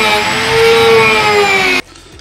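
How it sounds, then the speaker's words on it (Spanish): A Dremel rotary tool cuts through a part with a loud, steady high-pitched whine and grinding buzz for nearly two seconds, then stops abruptly. "mientras los botones secan, pues yo puedo ir recortando esta parte con la Dremel"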